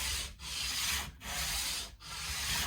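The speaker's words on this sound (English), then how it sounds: "it's quite nice to work down with sandpaper" Sandpaper rubs against the neck joint of an Ibanez S520 electric guitar in long, steady strokes, with three brief pauses between passes, close and continuous, with no talking.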